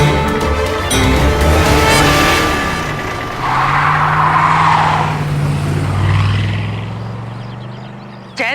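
A car braking suddenly on a road to avoid hitting someone, with a loud engine roar followed by a long, drawn-out tire squeal that fades away, close and alone.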